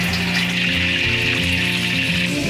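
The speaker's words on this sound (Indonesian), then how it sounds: "Mas nih ya, kita goreng." Seasoned fish for ikan balado fries in hot oil, giving a loud, close, steady sizzle and crackle that does not break for the whole moment.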